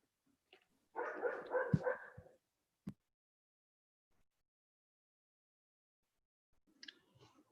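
Dog barking during an online council meeting: a short burst of a few yips and barks, faint and heard through a computer connection, followed by a click, silence and faint rustling.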